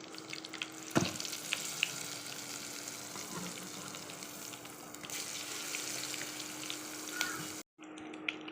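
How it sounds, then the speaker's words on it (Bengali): Keema begun coated in besan batter deep frying in oil, giving a continuous, even crackling sizzle at moderate volume with a brief clunk near the start and a sudden cutoff near the end. "এখন বেসনের মধ্যে দিয়ে ভেজে নেব। এইভাবে সবগুলো ভেজে নেব।"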